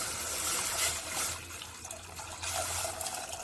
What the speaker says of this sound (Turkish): Şimdi suyumuzu ekliyoruz